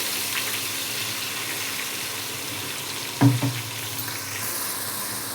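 Ginger garlic paste frying with onions and green chillies in a pan for mutton biryani, a steady soft sizzle throughout with a brief clatter of stirring midway.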